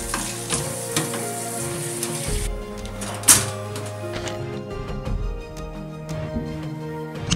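La Tortilla Factory tortilla toasting inside a Taco Toaster: a steady, soft sizzle and crackle with occasional small clicks and one sharp tick, close and fairly quiet.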